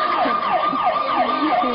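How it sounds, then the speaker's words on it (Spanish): An emergency siren sound effect played during a TV show wails in repeated falling sweeps, loud and continuous, with no voices over it. "Dos sirenas, muy bien."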